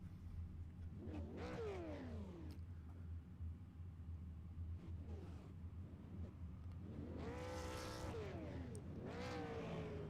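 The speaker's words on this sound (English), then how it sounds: "So we get ready to take our formation lap to get these cars ready to go for their first heat race around Nashville Speedway" Super Late Model race cars at Nashville Speedway rise and fall in revving passes, two distinct surges heard against a low steady rumble, with the second pass louder and nearer.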